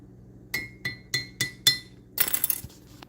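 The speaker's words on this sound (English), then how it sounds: "Yes, I'm stirring the coffee with it too." A spoon clinks against a coffee cup five times in an even rhythm, then rattles quickly around the rim in a faster burst of stirring, all close and crisp.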